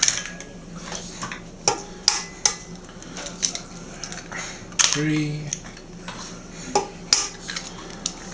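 Eggs go into carrot cake batter in a home kitchen with sharp taps and clinks of shell against a bowl and utensils, a series of scattered close knocks over faint kitchen bustle.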